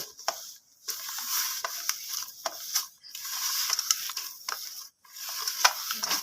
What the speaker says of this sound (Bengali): আবারও হাত দিয়ে আমি সব কিছু ভালো করে মাখতে থাকবো।